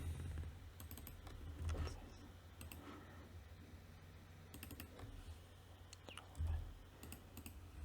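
Computer keyboard typing while code is written for a crypto exchange trading bot API, with clustered key clicks, a few louder thumps, and a low steady hum underneath.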